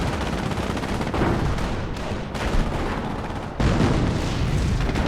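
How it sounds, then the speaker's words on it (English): Howitzer artillery barrage in the Company of Heroes video game on the Saint Lo map, a dense continuous roar of blasts and gunfire with sharp surges near the second and three-and-a-half-second marks. "Howitzer barrage coming in right on this pack."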